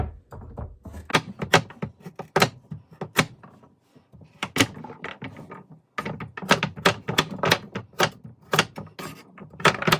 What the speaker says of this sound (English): I'm just going to cut them up in big chunks